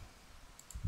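Two quick, faint mouse clicks land close together near the end, over a low hum at a computer while a Java test automation framework project is set up.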